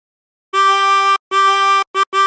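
Harmonica playing a few sustained notes of "What Shall We Do With the Drunken Sailor", two long tones followed by two short ones, clear and close with no talking.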